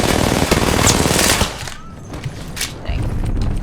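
Rapid gunfire from the Apex Legends video game bursts loudly in a dense stream for about a second and a half, then drops to quieter scattered shots and game noise, with a voice faintly underneath.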